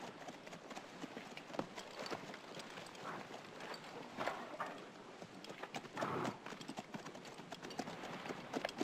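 Horses led out of stables at a frontier cavalry post, hooves clip-clopping in an irregular, moderately distant patter over a steady outdoor background, with no talk.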